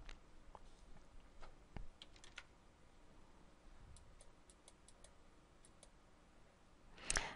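A computer mouse clicks several times, faint and crisp, in scattered single clicks and a quick run of light taps, in a quiet room.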